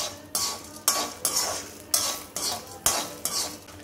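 Grated coconut dry-roasting in a pan for traditional Tamil mango-seed rasam, stirred with a spoon in repeated scraping strokes, roughly every half second, with a faint sizzle beneath, close and fairly loud, no talking.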